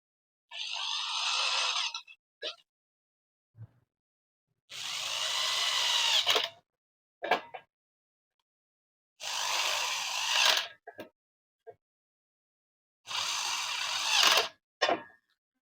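Power drill driving screws tight on a vertical stand for a band sealer machine, in four loud bursts of whirring a few seconds each, separated by short clicks and pauses, close by with no talk.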